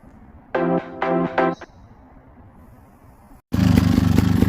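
A Beta Evo trials motorcycle with a temperature sensor fault, its fan connector bridged with wire, fires up after a few brief tonal beeps and runs loud and close with a steady buzzing drone.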